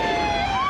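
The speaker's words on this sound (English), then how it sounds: "Sirens blaring, police respond to a high school's call for help." Police car sirens wail loudly and continuously in a brief burst as officers respond to a high school emergency call in Troutdale, Oregon, with a rising electronic tone.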